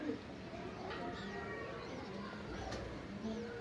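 A Nur chapra breed pigeon coos softly in soft repeated phrases over a steady low background hum, fairly faint and close by.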